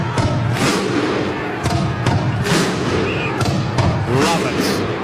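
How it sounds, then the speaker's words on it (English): Canberra Raiders fans do the Viking clap at GIO Stadium in Canberra before a finals match, loud unison thuds landing at a slow, steady beat over a roaring stadium crowd, with a commentator talking over it. "And there's the Viking clap."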